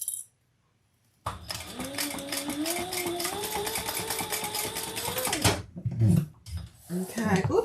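A home sewing machine stitching a garment in a sewing room, a quick start and then a rapid, rising run of needle strokes for about four seconds, stopping abruptly, followed by light clicks and handling noises nearby.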